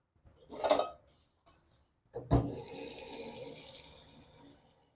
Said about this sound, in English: is I'm filling this water